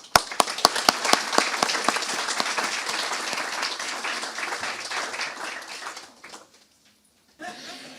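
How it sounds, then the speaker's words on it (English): A crowd applauds at a 2023 graduation ceremony, loud and sustained with sharp individual claps standing out at first, then thinning and fading away before a brief quieter sound at the end. "give yourselves a round of applause because you more than deserve it"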